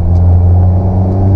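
A manual car's engine held near 3000 rpm, a loud, steady close rumble with a low droning hum and no other sounds.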